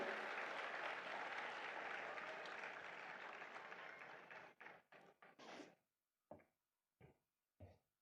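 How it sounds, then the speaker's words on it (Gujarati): An audience claps in warm welcome for an arriving swami, a dense wave of applause that thins out around the fifth second and breaks into a few scattered, separate claps toward the end. "આપણે એમને ખૂબ બધી તાળીઓથી વધાવી લઈએ."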